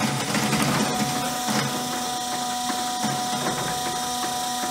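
A 1980 LeBlond Regal servo shift engine lathe, 15 by 30 inch, runs at its slowest spindle speed, giving a steady mechanical whir with a faint hum and light repeating gear clatter, close and alone.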